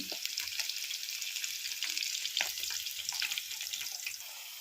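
Ivy gourd, sweet corn and peanut pakodi fry in hot oil, giving a steady close sizzle with scattered crackles and pops throughout, no voices.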